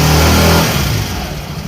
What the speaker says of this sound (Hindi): तो चल गई है बाइक, मतलब स्कूटरी चल गई है